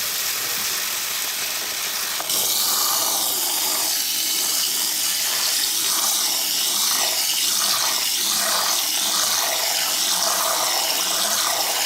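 Rice is rinsed under a running kitchen tap: a steady hiss of water that grows fuller after a couple of seconds, with soft sloshing and churning as the grains are swished, close by and with no speech.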